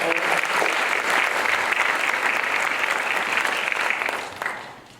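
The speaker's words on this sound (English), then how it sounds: "let's give them a round of applause." An audience at the Rogers High School Mounties Athletic Hall of Fame induction ceremony gives steady, full applause for staff. It holds strong for about four seconds, then tapers off.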